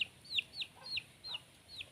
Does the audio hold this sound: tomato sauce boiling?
no